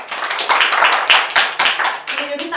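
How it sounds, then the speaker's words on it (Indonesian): A classroom of students claps for a classmate, close and loud rapid clapping from a small group with voices talking over it, tapering at the end. "terima kasih diberi tepuk tangan untuk Doni"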